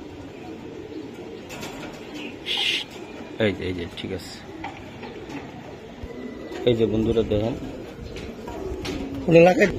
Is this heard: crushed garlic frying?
no